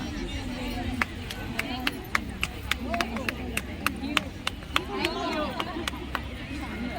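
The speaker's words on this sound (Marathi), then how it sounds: "छान टाळ्या." At a Haldi-Kunku gathering, an audience claps in sharp, evenly spaced single claps. The claps are steady and moderately loud over a background of crowd chatter and nearby talking.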